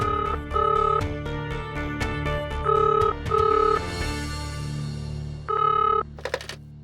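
A telephone rings in repeated short double bursts in the Hindi courtroom crime drama Adalat, the electronic ring sounding clearly several times with brief gaps between them over a low background hum.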